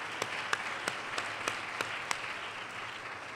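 A small conference audience applauds, a few sharper individual claps standing out rhythmically over a soft, distant wash of clapping.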